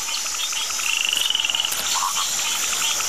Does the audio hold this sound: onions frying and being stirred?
no